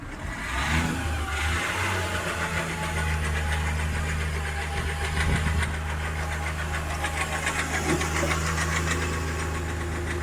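A car engine revved and held near 2000 RPM with a knocking fault, a loud continuous drone with a rapid metallic tapping running through it, close and steady without talk.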